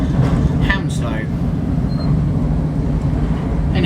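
A South Western Railway class 455 train running, a steady loud rumbling hum with a spoken announcement over it near the start.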